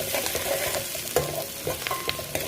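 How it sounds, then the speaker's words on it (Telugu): Curry leaves frying in oil for palak fry, a continuous close crackling sizzle with scattered sharp pops and stirring scrapes, fairly loud, with no voices. "లైట్గా కరివేపాకు వేస్తున్నాను అండి, ఎక్కువ వేయనండి."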